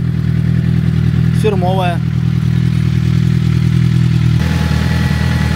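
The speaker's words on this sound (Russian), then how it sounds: "А сейчас еще прогреем до температуры, когда срабатывает охлаждение, вентилятор." A Suzuki GSX-R sport motorcycle idles as it warms up, its steady, close engine drone running evenly throughout while one brief spoken word sounds over it.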